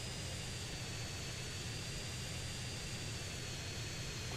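Hydra jet flying in GTA San Andreas: a steady, unbroken jet engine roar with a broad hiss, constant in level throughout.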